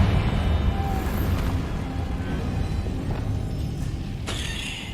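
A Confringo blasting spell goes off in the Hogwarts Legacy video game, a heavy, rumbling explosion that decays over a few seconds, followed by a sharp bright burst near the end.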